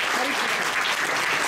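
A Doctor's Day gathering audience breaks into brief, full applause, a dense close burst of clapping lasting only a moment.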